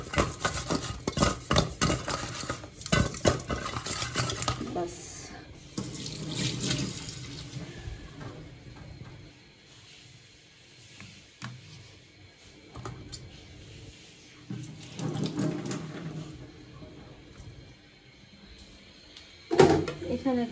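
Food rinsed under a running kitchen tap, water splashing and gushing in uneven bursts, with a few soft clinks of dishes and a louder splash near the end.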